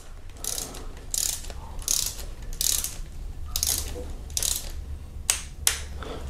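A ratchet wrench tightens the last camshaft cap bolt on a Kia Optima 2.4 GDI engine, repeated close clicking strokes in bursts with short pauses between pulls.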